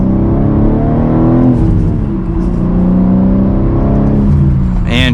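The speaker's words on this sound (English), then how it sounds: "We'll give it a little bit of gas from second." A Cadillac CT4-V Blackwing sedan accelerating from second gear, its engine note a loud, steady, close-up drone from inside the cabin that rises slightly, with a brief higher whoosh at the end.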